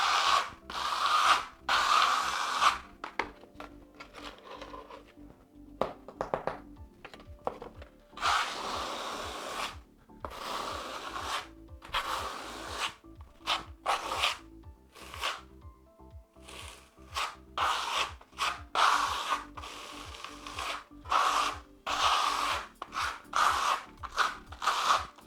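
A trowel drags a thin coat of microcement across a surface in repeated rasping scrapes, loud and close, arriving in quick bursts separated by short pauses, with no talking.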